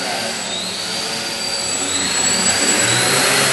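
Model jet airplane flying indoors, a loud continuous whining engine roar with a high turbine tone that stays steady throughout and slowly shifts in pitch.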